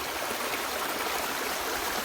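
Water flowing along a village stream where paper is being washed, a steady broadband rushing wash that holds even and close for the whole stretch with no voices.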